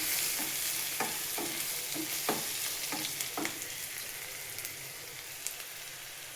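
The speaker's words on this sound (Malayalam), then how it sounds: "കുറച്ച് മുളക് പൊടി, ഇത് നന്നായിട്ട് വാറ്റി കൊടുക്കാം." Chili powder sizzles and fries in a hot pan with steady loud crackling, punctuated by several sharp stirring scrapes near the start.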